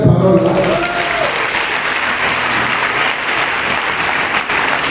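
A church congregation applauds after a scripture reading, with dense, steady clapping from many hands filling the room. A voice speaks briefly at the start.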